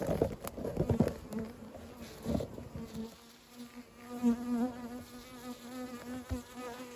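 Honeybees buzzing around a beehive as a hand draws near, a close droning hum with individual bees passing by and a few light taps and rustles early on.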